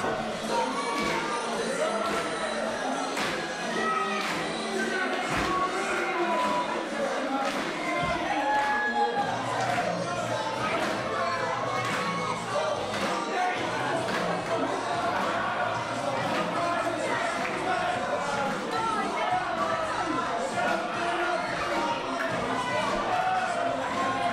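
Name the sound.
wrestling crowd cheering wildly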